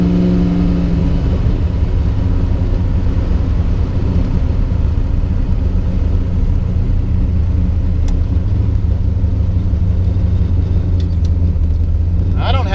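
A Camaro's engine pulls steadily under acceleration on Toyo R888 tires, a loud continuous low rumble heard from inside the car, with a person talking over it.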